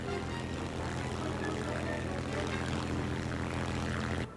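A propeller aircraft engine in War Thunder drones steadily and loudly, a constant buzzing roar that holds at the same level throughout before cutting off right at the end.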